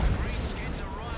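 Zap gun blasts and missile fire in the real-time strategy game Dawn of War 2 Retribution form a dense, loud, booming barrage that carries on under a commentator's voice.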